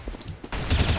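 Gunfire in a Counter-Strike: Global Offensive competitive match on the Inferno map: a quiet stretch, then a loud, dense burst of shots with heavy low-end thump filling the second half.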